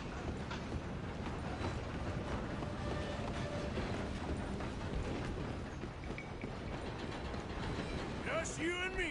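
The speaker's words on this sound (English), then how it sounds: "I'm gonna ride ahead and stop the train." A train runs in Red Dead Redemption 2: a continuous heavy rumble with rhythmic rail clatter and mechanical clanking, with voices under it and a brief high chirp near the end.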